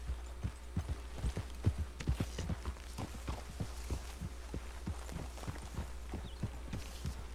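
Horse hooves clip-clopping in Red Dead Redemption 2, a steady walking rhythm of hoof falls on the ground, close and fairly loud, with a low hum underneath and no talk.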